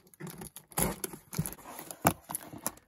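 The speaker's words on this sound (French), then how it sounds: "je coupe le scotch." Packing tape on a shoe parcel is cut and torn open at close range, a series of short scratchy rips and crinkling bursts, irregular and fairly faint.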